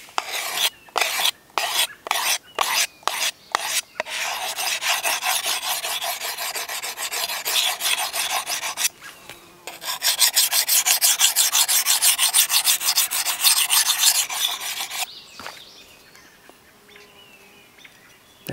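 A bushcraft knife is drawn across the fine side of a sharpener in a series of quick, rhythmic rasping strokes, then longer steady scraping passes, close and clear. Faint birdsong sounds in the background.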